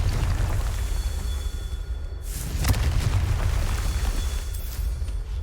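A Confringo fire-blast spell explodes in the video game Hogwarts Legacy, a loud booming burst over a dense, rumbling low-end game soundscape, with the blast standing out for a moment.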